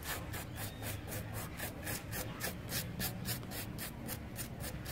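A steel wire brush scrubs dead bougainvillea wood on a bonsai in quick, regular back-and-forth strokes, each a bright scratchy rasp, close and steady throughout.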